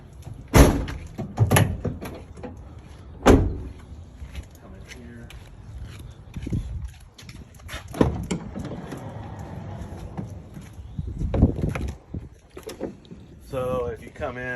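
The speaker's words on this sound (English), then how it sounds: "We'll close this door." Doors on a camper van are shut, giving a few sharp thuds and slams spread across the stretch, mixed with rattles and movement while people talk throughout.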